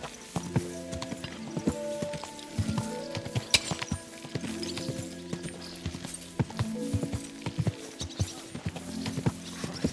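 A horse's hooves clip-clop at a steady walking rhythm in the medieval video game Kingdom Come Deliverance 2, close by and moderately loud over quiet ambient music.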